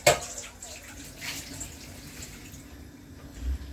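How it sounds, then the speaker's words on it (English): Water runs from a kitchen tap as a container is rinsed out during home cooking, a faint, steady, low wash with a slight swell near the end. "You can rinse out this container."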